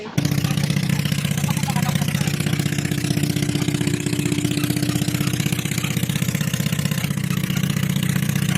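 A family vehicle's engine idles nearby with a rattling, tinny, loose-metal drone, steady and loud throughout with a fast pulsing rhythm, no speech over it.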